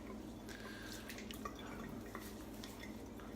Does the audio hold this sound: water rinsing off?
yes